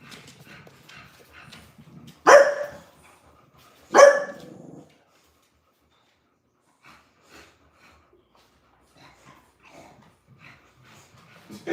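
A dog gives two loud, sharp barks a couple of seconds apart, close by, followed by near silence with faint scattered voices and small sounds.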